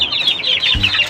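Young chicks kept with their mother hen peep continuously in rapid, high chirps, close and fairly loud, with a brief low thump partway through.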